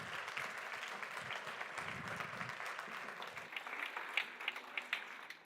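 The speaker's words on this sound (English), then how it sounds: "a wild round of applause for your President, Anita Meijer, and our CEO, Tad Linden." Audience applause greets the opening of a conference in Warsaw, a steady wash of many hands clapping at a distance that stays even throughout, with some louder individual claps near the end.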